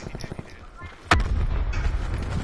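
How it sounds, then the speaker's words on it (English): A grenade explodes in a close-quarters shooter video game. A sharp, loud boom cuts in after some quieter game sounds, and a low rumble lingers after it. "That was the nade I threw."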